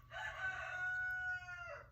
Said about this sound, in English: One of my roosters.